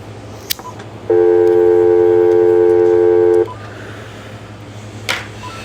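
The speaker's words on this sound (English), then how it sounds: "So I'm about to ready to dial the number and see if I can have a conversation with one of these two people." A touch-tone telephone keypad gives out one loud, steady electronic tone that holds for about two seconds against quiet room noise, with a couple of faint clicks before and after.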